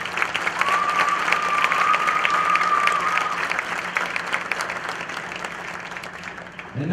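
Hearty applause fills a high school gym as the crowd honours senior wrestlers at a meet, with some cheering and a brief whistle. The clapping stays strong, then eases slightly toward the end.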